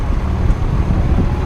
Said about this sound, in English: so it could be getting windy again